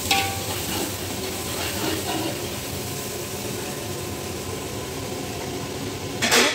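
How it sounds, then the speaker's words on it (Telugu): Masalas being stirred into chicken in a pot for Arabic royal chicken biryani in Kuwait, a steady soft scraping sizzle throughout, with a brief louder burst right at the end. "మసాలాలన్నీ వేసి ఇలా అయితే కలుపుకుంటాను."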